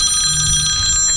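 Cell phone ringing with a bright, bell-like electronic trill, a short steady burst of close, high ringing over low background noise during a beehive inspection.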